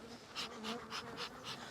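Honey bees in a beehive during a heavy nectar flow hum in a faint, soft buzz with a few pulsing swells, close up and with no talk.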